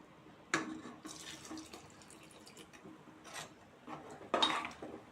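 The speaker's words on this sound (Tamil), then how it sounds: "இதுக்கு தேவையான ஒரு கப்பு தண்ணி சேர்த்திக்கோங்க" Water splashes and trickles in short bursts into a small mixer jar, close by, with brief pauses between pours and a few louder gushes near the end.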